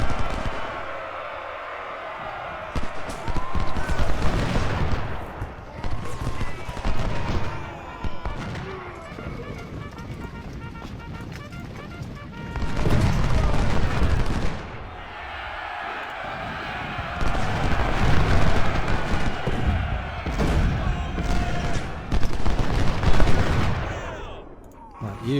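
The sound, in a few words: artillery and musket fire in Ultimate General: Civil War video game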